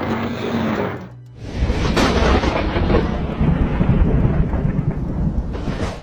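Lightning strike with thunder: a loud, close, sustained roar and rumble that dips briefly near the start, then swells into a long, heavy crash that fills the whole clip, with no voices.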